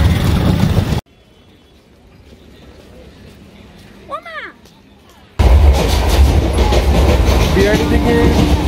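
A local suburban train rumbles loud and close on the rails, its steady roar and clatter cut off by a quiet gap with a faint screech, then returning at full force.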